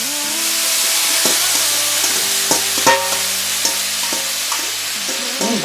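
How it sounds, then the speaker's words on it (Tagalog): Jackfruit being sautéed in a pan for coconut-milk ginataang langka with dried fish, a steady loud sizzle broken by repeated scraping stirs and clinks of a utensil against the pan, no talking. "Gisa na natin."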